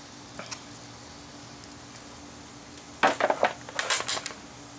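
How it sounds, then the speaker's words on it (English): A rack of ribs is set into a pan and coated, giving a cluster of close wet squishes and light pan clatters after a quiet stretch of room noise. "I'm going to put this one in the pan"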